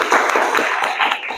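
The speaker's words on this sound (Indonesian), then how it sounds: "Tepuk tangan dulu." Students in a classroom clap their hands together in a brief burst of quick, dense applause lasting just over a second, close and lively.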